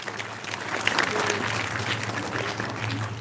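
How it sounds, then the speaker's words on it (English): Steady applause from a crowd at a school celebration, dense clapping sustained throughout at a fairly constant level. "Let's give them a huge round of applause."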